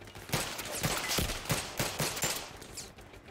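Gunfire in the shooter game Zero Caliber cracks out as a rapid run of loud, sharp shots, close and fairly evenly spaced before fading out.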